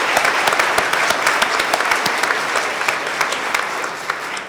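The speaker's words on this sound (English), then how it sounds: "Give her a big round of applause" An audience at a town hall meeting about a data center applauds loudly and warmly for a few seconds. The crisp claps are close and dense and taper slightly toward the end.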